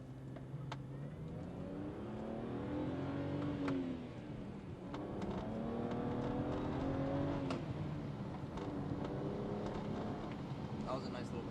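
A BMW 135i E82 with a manual gearbox accelerates, its engine note climbing in rising sweeps through the gears, faint and heard from inside the cabin with road noise.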